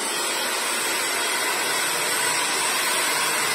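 A steady, broadband whooshing roar of a hair blow dryer in a barbershop runs continuously without change, fairly close and loud, with no voices.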